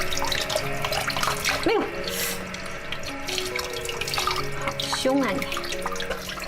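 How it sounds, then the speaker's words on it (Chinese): Running tap water splashes steadily into a sink as shrimp are rinsed, close and continuous, while a voice speaks over it. "来把虾清洗干净。"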